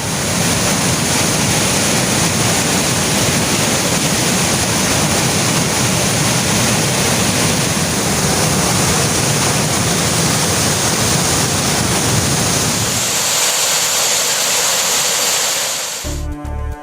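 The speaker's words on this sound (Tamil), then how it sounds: "சுருளி அருவியில் தண்ணீர் ஆர்ப்பரித்து கொட்டுவதால் சுற்றுலா பயணிகள் அங்கு குளிக்க தடை விதிக்கப்பட்டுள்ளது" Suruli waterfall in the Western Ghats swollen after heavy rain, a loud, constant roaring rush of falling water close by that drops away near the end.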